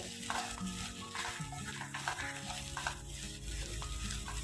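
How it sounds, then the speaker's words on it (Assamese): Fiddlehead fern fry (dhekiya saag) stirred in a pan over a medium flame, a continuous close sizzle and crackle with soft scraping and clinking from the utensil, no voices. "এতিয়া মই আকৌ ঢাকনিখন আঁতৰাই অলপ সময় লৰাই দিম"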